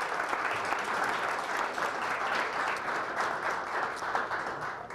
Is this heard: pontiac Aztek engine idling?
no